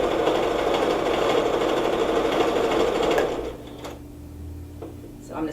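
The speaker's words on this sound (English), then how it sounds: "I'm going to sew all the way around." Sewing machine stitching around a tiger-print dress, a steady close mechanical whir for about three seconds before it slows and stops, leaving a low hum and faint handling clicks.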